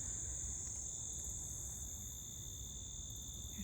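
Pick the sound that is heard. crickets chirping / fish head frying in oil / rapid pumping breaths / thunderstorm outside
crickets chirping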